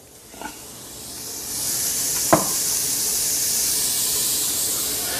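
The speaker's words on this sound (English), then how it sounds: "sauteing our onions and garlic" Onions and garlic sauté in a pan, giving a steady broadband sizzle and hiss that builds slightly, with a couple of brief clinks or stirring knocks near the start and middle and no talking.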